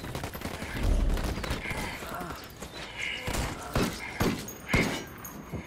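Heavy gunfire in the tactical shooter Ghost Recon Wildlands, with rapid bursts and sharp cracks continuing across the clip, several loud close shots standing out near the end, and no voices over it.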